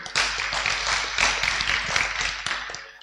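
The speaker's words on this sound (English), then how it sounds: "A round of applause for that team." An audience applauds a hackathon team at an awards ceremony, steady dense clapping that holds for about three seconds before tapering off at the end.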